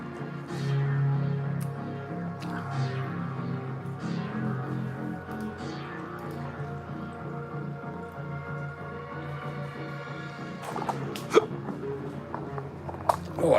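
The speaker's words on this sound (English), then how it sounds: "Oh, I got the hiccups again." A person hiccups several times in quick, sharp bursts near the end, over a faint steady background hum.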